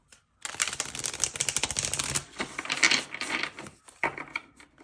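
A deck of cards being shuffled and cut at close range, with rapid riffling flutters and soft slaps in bursts over several seconds, and no talking.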